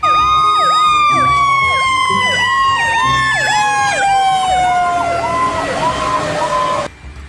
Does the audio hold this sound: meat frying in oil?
no